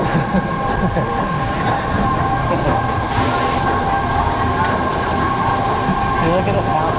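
Dragonflier roller coaster at Dollywood rumbles along its track in a steady, loud, close mechanical roar with rattling and a faint whine, while voices talk over the ride noise.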